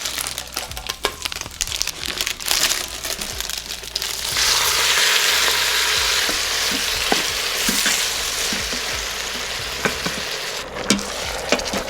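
Ratatouille vegetables sizzle in an Instant Pot on saute mode while being stirred, with scraping and crinkling sounds from the spoon, and a broad steady hiss that swells partway through.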